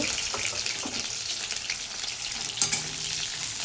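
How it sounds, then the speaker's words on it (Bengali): Onion and green chili frying in hot oil on a home stove, a steady sizzle running throughout with a few stirring clatters, close by and fairly loud, no talking. "তেলের মধ্যে এখন কি দেবো বলো তো পেঁয়াজ আর কাঁচা লঙ্কাটা দেবো তো পেঁয়াজটাকে ভালো করে ভেজে নেব"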